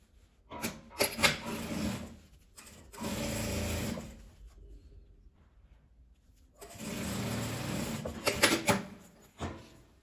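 Bursts of a domestic sewing machine stitching a closing seam on both sides of a scrap-fabric toiletry bag, three runs of steady mechanical whirring separated by pauses with handling clatter, close and clear.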